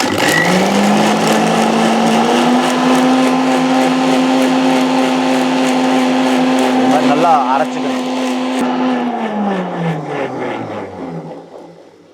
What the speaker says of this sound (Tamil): இப்போ இதை அரைச்சி நம்ம அப்புறமா பார்த்திங்கன்னா இதுலேருந்து சாறு எடுத்து குடிக்க போகிறோம்